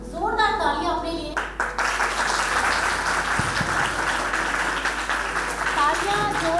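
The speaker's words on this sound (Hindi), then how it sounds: "एक जोरदार तालियां अपने लिए।" Workshop audience at a women's technical institute in Delhi claps loudly together, a sustained roomful of hands that starts right after a brief spoken phrase and continues steadily, with voices briefly audible near the end.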